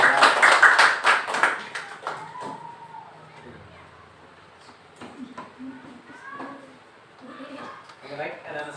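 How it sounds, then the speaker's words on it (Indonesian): A class of schoolchildren claps hands together during a lesson: a dense burst of clapping for about two seconds that quickly dies away, followed by a child and an adult talking over quiet classroom noise. "Oke, tepuk tangan dulu untuk"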